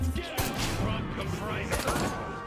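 An upgraded gun firing in Destroy All Humans, a few punchy blasts amid busy game noise, with a voice talking over parts of it.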